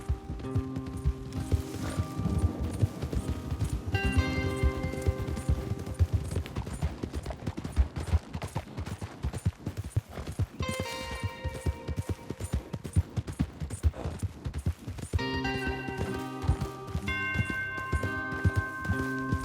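Horses trotting and galloping in the video game Red Dead Redemption 2, a dense, continuous clatter of hooves close by, mixed with sustained musical score tones.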